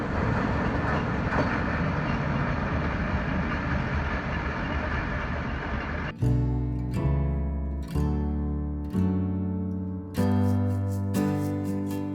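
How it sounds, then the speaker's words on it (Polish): The Maltanka narrow-gauge park railway train in Poznań runs past with a steady, dense rumble and rattle for about six seconds before music takes over with a series of held chords. "A oto wąskotorowa kolejka parkowa Maltanka."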